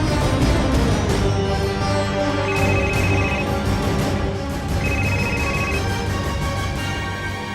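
A telephone rings with repeated electronic ring bursts over a dense, steady background of music-like tones, loud and continuous without any talk.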